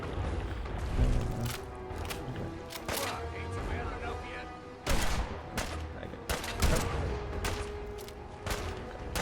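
Bursts of gunfire in the video game Fallout 4, with sharp volleys near the middle and end over a busy background, while a voice talks.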